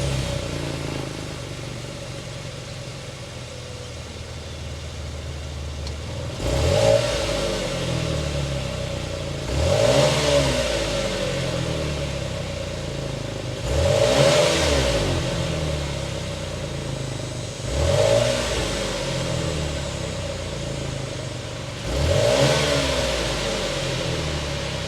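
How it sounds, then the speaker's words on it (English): A 2023 GMC Acadia Denali mid-size SUV with a 3.6-liter V6 revs its exhaust in five distinct blips, each rising and falling back to a steady idle between them, close and fairly loud. "start it up so you can hear that exhaust note."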